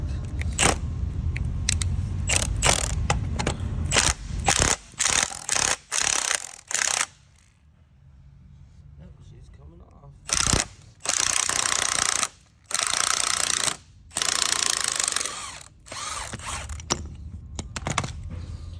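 An impact wrench and puller work a part off a Doosan forklift's free lift cylinder, with repeated short mechanical rattling bursts broken by pauses, close and loud with no talking.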